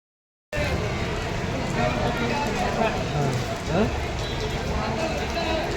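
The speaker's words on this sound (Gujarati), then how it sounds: "અત્યારે વરસાદ ચાલુ છે" Rain pours during a Diwali trip to Somnath, a constant broadband hiss filling the scene while people talk over it nearby.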